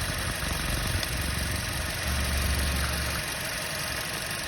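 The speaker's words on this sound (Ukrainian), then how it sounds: "Моторчик працює тихесенько, летить на холодне цепа не чути" A 2009 Volkswagen Touran engine idles quietly and evenly on a cold start, a low steady hum with a slight throb and no chain noise, heard close with no voices.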